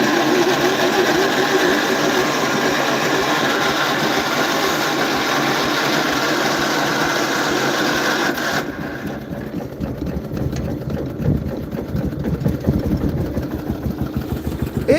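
An old, long-unused engine runs steadily after starting, throttle and choke open, with a loud, even mechanical drone that shifts slightly in tone partway through.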